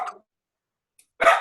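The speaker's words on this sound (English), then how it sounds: "who's barking?" Two short dog barks separated by a pause of silence, the second louder and closer.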